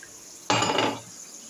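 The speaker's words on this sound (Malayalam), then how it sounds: "പിന്നെ കുറച്ച് വെള്ളം ഒഴിക്കും." Water splashes into a pan for about half a second, a short loud rushing pour that ends abruptly, no voices.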